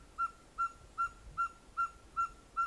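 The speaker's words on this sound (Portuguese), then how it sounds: "Essa é a coruja caburé" Ferruginous pygmy owl in the Caatinga giving a regular series of short, clear whistled toots, evenly spaced about every 0.4 seconds against a quiet background.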